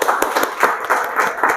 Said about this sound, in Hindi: उनके लिए एक ज़बरदस्त ताली हो जाए